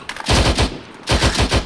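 Gunfire in the ARMA 3 video game: two loud bursts of rapid automatic shots, the first of four or five rounds and the second of three or four after a brief gap, heavy and close with no talk.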